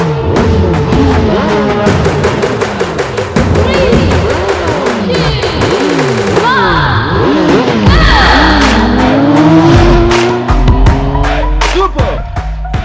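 Motorbikes launch at the start of a race in an action film chase, engines screaming and rising in pitch through repeated gear shifts, loud and close, with tire squeals and dense layered revving throughout.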